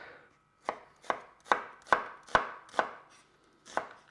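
Seven crisp knife chops on a cutting board as an onion is sliced into strips, coming in a steady, slightly uneven rhythm about half a second apart, close and clear with no talking.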